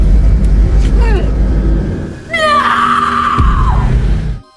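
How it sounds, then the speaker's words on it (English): A man screams in anguish and fury in a dramatic film scene, a long strained cry rising and then sustained loudly before cutting off abruptly, with rumbling background underneath. "screaming in anguish and fury"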